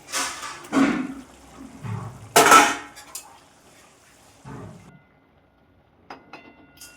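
Metal dishes and a plate clatter loudly near a cooking pot of fish curry with eggplant, a few sharp clanks and scrapes as the plate is set down as a lid, followed by quieter light taps.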